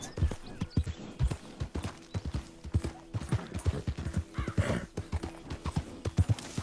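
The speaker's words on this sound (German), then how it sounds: "Mein armes Pferdli macht schon eine mit." Horse hooves clip-clop in a steady walking rhythm in Red Dead Redemption 2, close and clear, with a brief whinny partway through and no talk over it.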